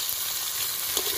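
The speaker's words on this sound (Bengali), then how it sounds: "কড়াইয়ে আর একটু তেল দিয়ে আলুগুলো ভেজে নেব।" Potatoes fry in oil in a wok, giving off a loud, steady, close sizzle that fills the whole moment without any break.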